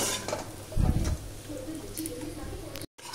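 Smashed mutton and coconut frying in oil while being stirred in a pan, soft sizzling with a brief loud scrape of the spoon near the start, then quieter sizzle.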